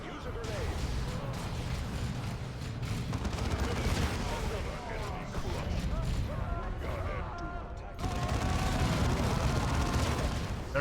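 Sustained gunfire from a tactical squad returning fire in Dawn of War 2: Chaos Rising, with dense, continuous volleys, heavy weapon blasts and explosions in a loud, chaotic battle mix.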